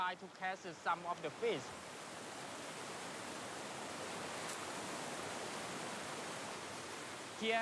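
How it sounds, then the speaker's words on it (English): Strong river rapids and waterfalls at Siphan Don, Laos, roar as a steady, broad rush of water; someone talks briefly at the start before the torrent carries on alone. "Here we can see the rapids and the really strong waterfalls where they're trying to catch some of the fish."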